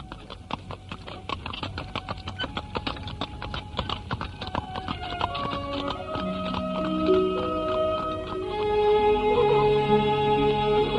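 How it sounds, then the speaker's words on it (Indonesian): Steady clip-clop of horse hooves trotting along a village road with rolling carriage noise, joined later by soft sustained musical tones underneath. "Kereta kuda yang ditumpangi Arya Dwi Pangga dan Narirati berjalan menyusuri jalan desa"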